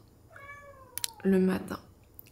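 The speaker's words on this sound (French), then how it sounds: "pendant 1h30 non-stop, il miaule" A cat meows in a few short, rising calls, then lets out one louder, drawn-out meow, with faint background noise.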